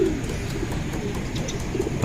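Pigeons coo close by in a loft, low soft throaty calls repeating over a steady murmur, with no talking.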